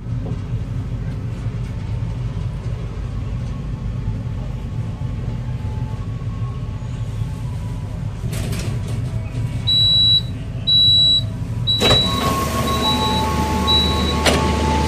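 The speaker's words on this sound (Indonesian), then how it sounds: "kereta api Progo telah tiba di pemberhentian pertama stasiun Wates" Progo economy-class train pulling into Wates station, a steady low rumble of the carriage rolling in, then a loud burst of platform noise with a repeating high electronic chime or beeping near the end.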